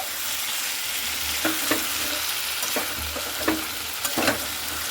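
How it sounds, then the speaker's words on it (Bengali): Potatoes and chicken pieces sizzle in a hot pan and are stirred, producing a constant frying hiss punctuated by several sharp spoon scrapes and clinks, close and without speech. "এরপরে আলুটাকে দিয়ে মাংসটা খুব ভালো মতো করে আমি নাড়াচাড়া করে নিচ্ছি।"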